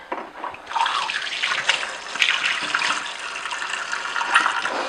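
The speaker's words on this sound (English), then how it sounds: "I need to wash my hand again." Water runs steadily from a kitchen tap as hands are washed, a continuous close hiss and splash that swells slightly with movement under the stream, with no voices.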